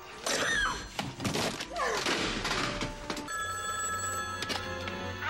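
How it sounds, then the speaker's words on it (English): A telephone rings in the horror movie Leprechaun, a loud repeating bell ring sounding alongside thuds and movie dialogue and music. "Is it a cell phone?"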